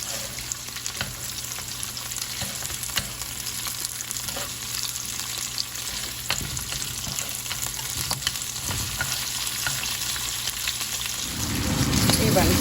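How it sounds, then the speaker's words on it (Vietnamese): Shrimp and chili stir-frying in a hot pan, a steady dense sizzle with scraping stirs throughout, close and loud, growing busier near the end. "Khi bạn cho ớt vào bạn đảo như nè"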